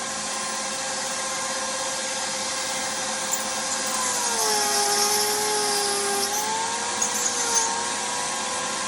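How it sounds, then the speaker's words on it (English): A vacuum cleaner drones steadily and loudly throughout while foam is carved into an owl, its whining pitch dipping and rising slightly, with faint tool clicks near the end. "I'm hoping this vacuum's sucking some out."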